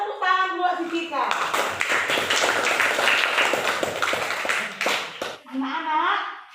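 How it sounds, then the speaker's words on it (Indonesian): A classroom of children bursts into applause, a dense burst of clapping lasting several seconds with children's voices chattering over and around it. "Tepuk tangan buat si Cika."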